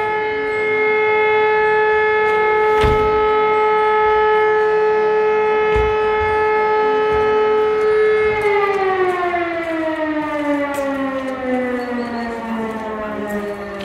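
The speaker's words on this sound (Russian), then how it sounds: "О, сирена." A civil defense siren sounds outdoors in a German town. A loud, steady wail holds for several seconds and then slowly falls in pitch as it begins to wind down, with faint street noise underneath.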